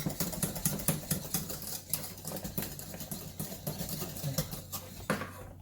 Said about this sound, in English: I'm going to continue to whisk it this way it does not burn